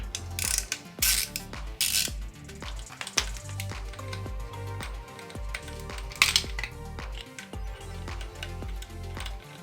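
A ratchet wrench loosens Torx bolts on a motorcycle motor with close, rapid clicking bursts broken by short pauses and a few metallic clinks.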